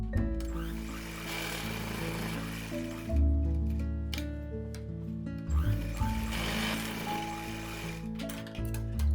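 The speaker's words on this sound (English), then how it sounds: "We will put one more stitching along this side." A sewing machine stitches cotton cloth for a child's kameez, whirring in two sustained mechanical runs separated by a brief pause, close and fairly loud with a buzzing, ratcheting texture.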